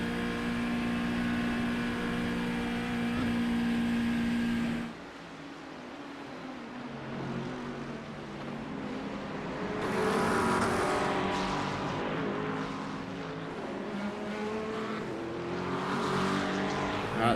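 Ferrari race car engine in a VR racing game, a loud high-pitched harmonic whine for several seconds that gives way to a rushing, noisier roar as it passes by.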